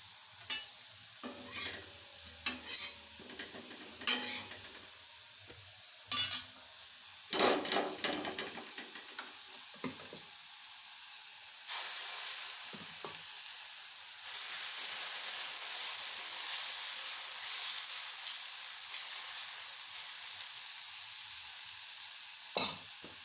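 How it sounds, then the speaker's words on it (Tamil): Tomatoes sizzle softly in a hot pan while a spoon scrapes and knocks against it now and then. The frying hiss grows steadier and louder midway. "தக்காளி வதங்கட்டும்"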